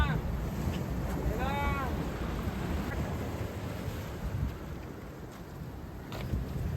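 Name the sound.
ocean waves at a beach at night in rain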